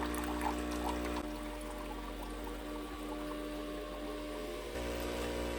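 A small electric water pump in a Senseo coffee maker hums steadily with a low buzzing drone and a faint watery gurgle, changing tone briefly partway through as the reservoir runs low, with no voices.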